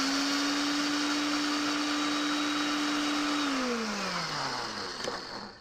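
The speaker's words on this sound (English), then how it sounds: "we're gonna grind these up" A blender grinding flax seeds whirs steadily at a high, even pitch for several seconds, then its motor tone drops as it winds down near the end.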